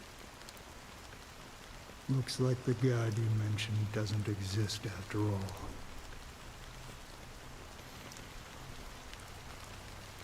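Steady soft patter of fine black rain from the game Honkai: Star Rail, continuous and even, with a voice speaking over it for a few seconds.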